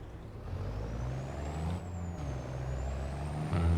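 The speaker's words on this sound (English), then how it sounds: "We're over accelerating. Let's take that Jake brake off." A truck's Jake brake rumbles steadily and loud in Farming Simulator 25, a low engine drone held for several seconds with a faint rising and falling whistle above it.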